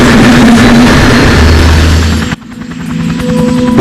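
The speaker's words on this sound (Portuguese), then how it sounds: "Oh, it's not just a helicopter." A helicopter in flight, a loud, steady rotor and engine roar that drops abruptly partway through and then builds back up.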